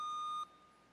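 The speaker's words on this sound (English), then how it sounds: "Use buzzing and test your buzzer, please." A quiz competition buzzer gives a single clear electronic beep during a buzzer test, steady and bright for under half a second before cutting off into quiet room tone.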